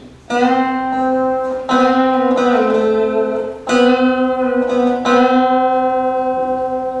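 Bright, ringing slide guitar notes played in unison, struck in a slow sequence of four, each sustaining with a bell-like shimmer, played alone.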